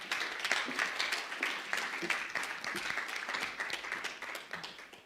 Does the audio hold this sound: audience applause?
yes